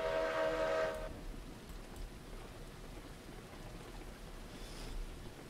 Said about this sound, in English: This is good to see that the pressure actually affects the whistle